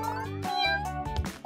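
A cat meows in short repeated calls, close and fairly loud, over a harmonic musical bed in a cartoon scene about a cat bringing kittens to a bed.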